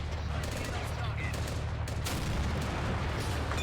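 Rapid bursts of small-caliber gunfire in the Army Men trench battle video game, dense and continuous, with crackling shots layered over a constant low rumble of battle.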